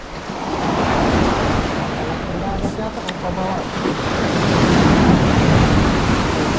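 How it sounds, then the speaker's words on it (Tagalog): Strong sea waves surge and crash around a small boat, with a steady roar of surf and heavy wind buffeting the microphone, swelling louder toward the end. "Lakas ng alon."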